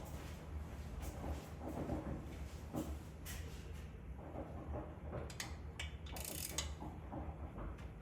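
A ratchet clicks in short bursts while tightening intake manifold bolts on a 2023 Harley FLHXS, faint and close, with irregular mechanical ticks and pauses and no talk.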